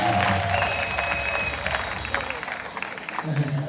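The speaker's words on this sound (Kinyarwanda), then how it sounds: "Clap for them." An audience applauds at an award ceremony, a broad wash of clapping and crowd noise that gradually thins out toward the end.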